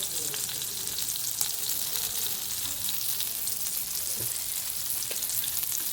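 Surmai kingfish slices fry Konkan style in a pan, giving a steady, close, dense sizzle that crackles evenly throughout with a few faint scraping sounds and no talking.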